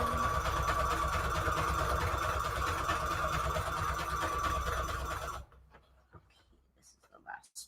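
A sewing machine runs continuously and loudly, stitching a decoupage napkin paper envelope, then stops abruptly, leaving quiet room sound with faint rustles.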